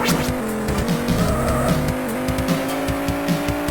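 Racing cars roar and their tires screech in skids in the futuristic top-down Amiga racer All-Terrain Racing, with continuous engine drone broken by repeated sharp squeals and no talk.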